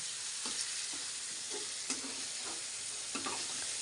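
Tomato stirred and sautéed in a hot pan gives a continuous close sizzle, broken every half-second or so by brief scrapes and knocks of the spoon, with no talking.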